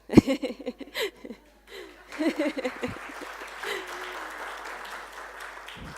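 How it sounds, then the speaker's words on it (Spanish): An audience at an archaeology lecture in Antofagasta applauds after a few scattered early claps and faint chuckles. The clapping is soft and distant, building into a light, continuous patter. "Ahí viene el aplauso."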